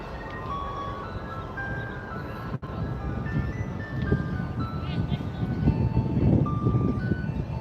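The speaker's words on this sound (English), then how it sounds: "we've got two ice cream trucks, and they're both playing music" Two ice cream trucks play jingles outdoors near Tampa airport, tunes overlapping, with traffic rumble and distant voices underneath.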